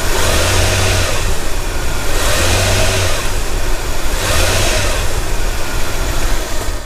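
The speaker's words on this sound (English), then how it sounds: "Now I'm going to put it in reverse" A car engine revs in reverse during an engine and transmission mount check, three repeated throttle bursts rising and falling over a loud, steady idle.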